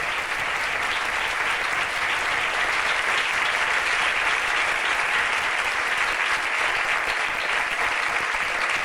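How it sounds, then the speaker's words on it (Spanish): A large audience at a book presentation gives a loud, sustained round of applause, dense even clapping from many people filling the whole stretch. "quería como mínimo un fuerte aplauso"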